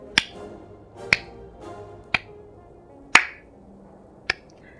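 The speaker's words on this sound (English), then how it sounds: "The giant mock claps whilst he riles up the crowd with exaggerated gestures" A giant mock-claps in the Slay the Spire video game: five sharp, isolated claps spaced about a second apart, crisp and close against a quiet background.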